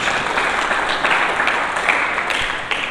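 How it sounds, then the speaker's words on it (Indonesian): Congregation applauding in a church during a Sunday service, a dense, steady wash of many hands clapping at close range, sustained without a break and with no voices on top. "Mari kita berikan tepuk tangan bagi Yesus Kristus."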